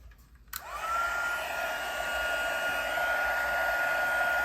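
A handheld heat tool bursts on and blows steadily, a loud close whooshing hum with a rising whine, used to melt white embossing powder on cardstock at a craft table.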